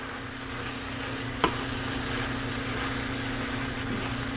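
Lime juice being stirred into food sizzling in a hot pan, a steady frying hiss with one brief clatter of the utensil, no voices.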